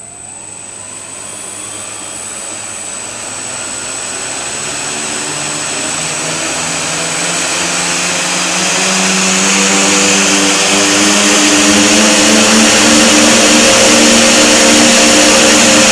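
A quadcopter's motors, powered by two 2S LiPo batteries in series at 15V, whine loud and close during a throttle test, the roaring hum climbing steadily in pitch and volume with no talk.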